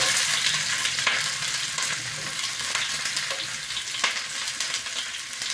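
Mustard seeds, chili and onion fry in very hot oil, a dense, loud, steady sizzle heard close with a few faint stirring scrapes, no speech.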